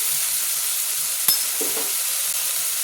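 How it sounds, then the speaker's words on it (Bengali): Bottle gourd being stirred with a little added water in a pan: a steady, close hiss of simmering with a single sharp scrape or clink of the spoon partway through. "আমি জলটা দিয়েও নেড়ে নিলাম।"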